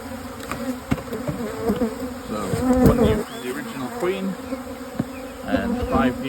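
Dense honey bees buzzing loudly and continuously close by while one hive is split into six nucleus colonies, a steady swarming drone with individual insects passing near.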